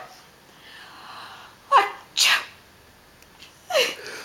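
Sneeze-like bursts, two close together then a third after a pause, loud and near over a quiet room; a voice imitates sneezing during a playful exchange between mother and child.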